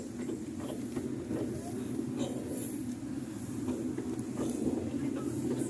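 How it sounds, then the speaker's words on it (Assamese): Amusement park toy train ride at Accoland, Guwahati, running among trees: a steady, close low rumble and clatter that continues throughout, with faint voices in the background. "এই আছে আমি মমাইতামলৈ গছৰ মাজে মাজে গৈ আছোঁ ট্ৰেইনত।"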